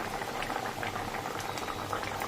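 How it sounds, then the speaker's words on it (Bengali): Katla fish curry in a mustard-poppy seed sauce bubbles at a steady boil, with a dense, even simmering texture of small pops and burbles, close and moderately loud, with no voices. "এই যে ফুটে উঠেছে"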